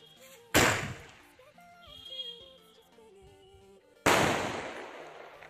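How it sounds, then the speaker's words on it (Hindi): Two sharp, loud blasts from a Diwali 'Colour Two Sound' firecracker, spaced about three and a half seconds apart, with a tonal whistle-like sweep rising between them before the second bang. "तो गाइस, सबसे पहले चलाते हैं कलर टू साउंड को।"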